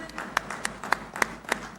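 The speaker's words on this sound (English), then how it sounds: "A huge round of applause," A few scattered, sharp hand claps from the audience at the groundbreaking ceremony for the Google Cloud India AI Hub in Tarluvada, Visakhapatnam, spread across a steady room murmur.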